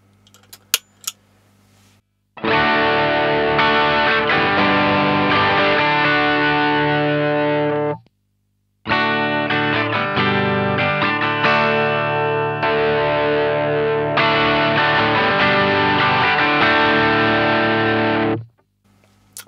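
Electric guitar through a Boo Instruments OD/TS overdrive pedal, a Tube Screamer TS808 clone, with all knobs set central: sustained crunchy overdriven chords played loud and close, briefly pausing mid-phrase before resuming and cutting off.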